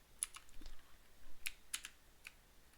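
Typing on a computer keyboard at a desk: sparse, faint clicks and taps in small irregular clusters, close by and with no talking.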